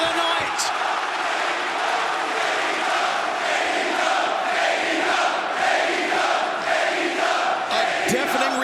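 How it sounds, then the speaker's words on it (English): A sold-out arena crowd in St. Louis roars at a wrestling match, a loud, sustained wall of cheering and screaming that fills the whole stretch with swelling peaks. "A deafening reaction from this sold-out crowd in St. Louis"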